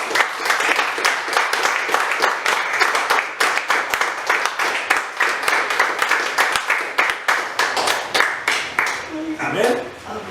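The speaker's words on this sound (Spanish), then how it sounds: "Y le da un aplauso al Señor" Congregation clapping in a church service, a dense sustained round of applause filling the room, with a voice speaking over it near the end.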